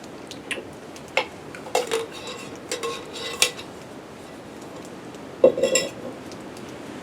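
Metal clinks and light knocks from a camping cup and alcohol stove kit being handled, a few scattered taps and rattles spaced out, close and fairly quiet.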